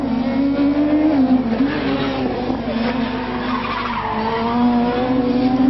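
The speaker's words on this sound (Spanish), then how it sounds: "Estos coches llevan un cambio secuencial, por eso el ruido es tan continuo." A rally car with a sequential gearbox drones loudly and continuously on an asphalt stage, its pitch rising and dipping with shifts, mixed with tire squeal, close and steady throughout, at the 1997 Rally Formula Oviedo.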